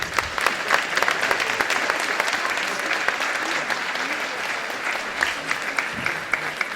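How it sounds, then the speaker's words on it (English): An audience at a conference panel on war, peace and global justice gives sustained applause, a steady crackling mass of claps with a few sharper individual hits and faint voices underneath. "give them a round of applause"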